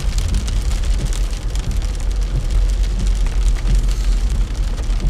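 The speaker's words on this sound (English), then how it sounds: "but we still have some pretty heavy rain." Steady, dense downpour of heavy rain drumming on a surface, loud and continuous with no voices.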